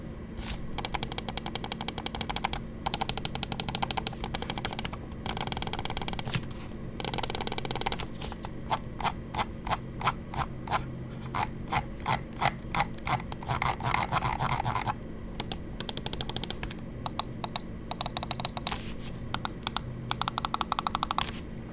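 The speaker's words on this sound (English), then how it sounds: "let's go ahead and we will drop the click quality sound test" Button clicks on a VAXEE ZYGEN NP-01S wireless ergonomic gaming mouse, crisp and close, coming in rapid even strings of taps with short pauses between the runs.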